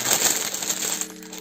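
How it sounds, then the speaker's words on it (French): Plastic pouch of a paint-by-number embroidery kit crinkling and rustling close up for about a second, then fading to quieter faint handling. "Encore désolé pour le bruit, mais le plastique, hein, comme ça."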